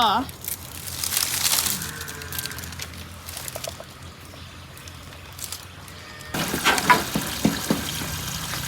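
Water runs from a freshly repaired water pipe, a broad rushing splash that swells and fades over several seconds while people talk nearby.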